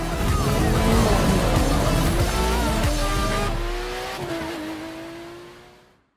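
A race car in The Crew 2 roars loudly with a sustained, revving engine and tire noise, accelerating continuously before fading out toward the end.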